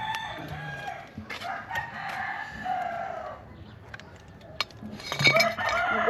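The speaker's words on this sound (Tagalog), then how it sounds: "Nagwawala kasi ang mga manok diyan" Roosters crow and chickens cluck nearby, with a few faint clinks and quiet background noise between the calls.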